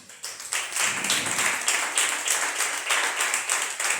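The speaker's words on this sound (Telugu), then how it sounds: "Shall we all మనందరం కలిసి దగ్గరగా చప్పట్లు కొడదాం." A church congregation claps hands together in a steady, rhythmic run of sharp beats, lively and close, with no talk over it.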